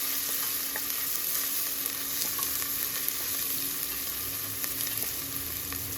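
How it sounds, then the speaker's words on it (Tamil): Small shallots fry in hot oil with popped mustard seeds for a South Indian prawn head gravy, giving a steady, even sizzle that carries on alone, close and moderately loud, for the whole stretch. "கொஞ்சம் வதங்க ஃப்ரை ஆகட்டும்."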